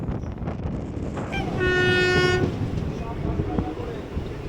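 A passenger train on a suburban line out of Sealdah rumbles along steadily, then sounds a loud, sustained horn blast for about a second before the rolling clatter continues.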